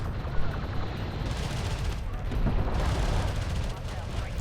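Heavy railgun and vehicle fire in a Homeworld: Deserts of Kharak battle, a dense continuous barrage of booming shots and impacts with a commentator talking over it.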